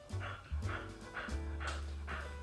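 A pet dog breathes in rhythmic, raspy puffs, close and soft, repeating about every half second over a steady low hum.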